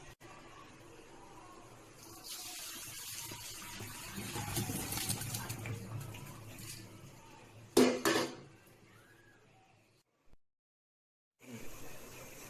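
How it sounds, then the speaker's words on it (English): Par-boiled rice for chicken biryani being drained in a kitchen, water gushing and splashing for several seconds with pot and utensil clatter, then a few sharp knocks and a short silence. "Now you can drain the rice."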